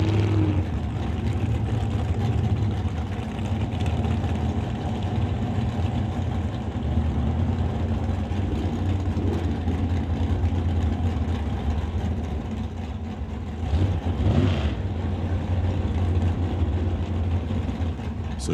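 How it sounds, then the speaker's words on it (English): A drag racing dragster roars through a burnout at a strip, a loud continuous engine drone close by that swells briefly near the end. "As Jan Christensen completes the burnout."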